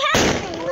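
A firecracker bomb goes off with one sharp, loud bang at a village Diwali celebration, then a short rumbling decay, with voices nearby.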